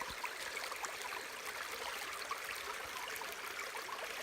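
Steady, broadband rushing of a shallow, rocky Ozark creek flowing over rocks, constant and fairly faint throughout, with no voices.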